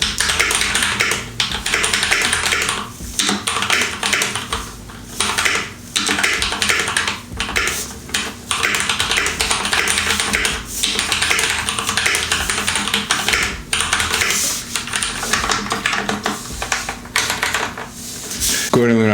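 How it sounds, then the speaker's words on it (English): Typing on a freshly cleaned and reassembled mechanical keyboard, keys clacking in a steady, busy stream of close taps with brief pauses, no talking. "just plug it in just to make sure that your whole keyboard works, that all of your switches are nicely lined up and that they're all working"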